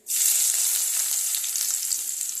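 Chopped onions frying with garlic and bay leaf in hot oil for masala mutton, a loud, steady crackling sizzle that starts suddenly and continues without a break, with no talking.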